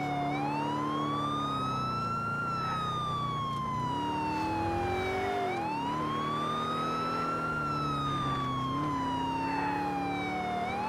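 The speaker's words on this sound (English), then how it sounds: "We need the sirens!" Police car sirens in Grand Theft Auto 4 wail steadily, rising and falling in long sweeps over a constant engine and road roar, with no talk.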